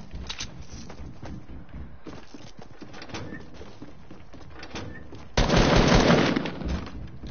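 Rapid bursts of video game gunfire, steady and moderately loud with a sharper, louder volley near the end; little talk is heard.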